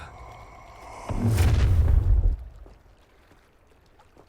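A fiery Incendio spell in the Hogwarts Legacy video game bursts as a loud, deep whooshing blast that roars for about a second before fading into quiet.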